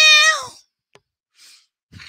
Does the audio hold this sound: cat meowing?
yes